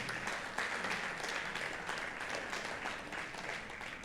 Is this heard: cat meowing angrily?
no